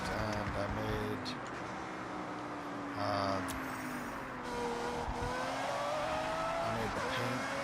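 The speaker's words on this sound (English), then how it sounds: "I just found out the other day that this car sounds literally perfect" A car engine in the racing game Forza Horizon drones and revs steadily with shifting pitch, gear changes and brief tire noise, loud and continuous, while a person talks over it.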